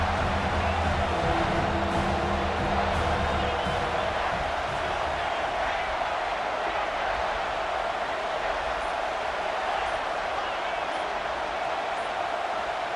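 Stadium crowd noise in the college football game College Football 26, a loud sustained roar from a large crowd at a tight late-game moment, rising then holding as a dense, continuous wall of sound.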